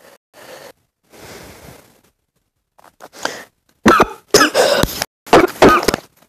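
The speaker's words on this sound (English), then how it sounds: "Sorry guys, I just was coughing." A person coughs repeatedly, a few softer muffled coughs at first followed by a burst of loud, harsh, close coughs in quick succession.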